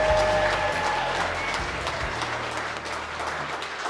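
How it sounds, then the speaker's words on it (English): Wedding guests applaud the newly married couple in a dense, continuous round of clapping that fills the room at steady volume, with low thumps and a faint tone underneath early on. "Round of applause for our beautiful couple, ladies and gentlemen"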